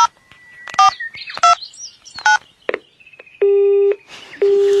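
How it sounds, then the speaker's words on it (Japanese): A phone call that goes unanswered: several quick dialing beeps, then two long, steady call tones repeating loud and clear, with no voice. "もう一回電話してみようかな。"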